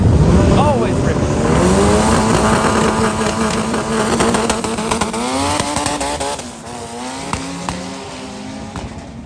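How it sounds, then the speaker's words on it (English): Civic Coupe and Integra race cars scream by during a rain-soaked qualifying session, loud engines rising and falling in pitch through the gears, with a voice talking over the continuous roar. "We got an Integra versus Civic Coupe. The Civic Coupe always ripping."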